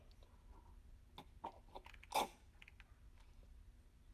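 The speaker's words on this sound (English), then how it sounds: "It's crunchy and chunky." Quiet crunchy food being bitten and chewed close up, a scattering of soft crisp crunches building to one louder bite, with no talking.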